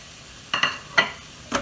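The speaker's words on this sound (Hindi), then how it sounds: "और इन्हें 1-2 मिनट तक अच्छे से भुनेंगे" Roasted cumin powder, coriander, garam masala and turmeric roast in a pan with spinach for palak pulao, heard as a few short scraping stirs over a quiet background.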